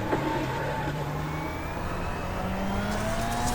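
A turbocharged rally car engine in a video game hums and revs continuously at a steady distance, with faint whistling turbo tones rising and falling over the drone.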